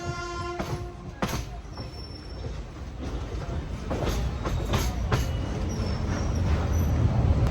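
Chennai–Visakhapatnam weekly superfast express running, with a steady loud roar of wheels and carriage rumble, sharp clicks and brief high wheel squeals near the start. The noise builds slightly toward the end.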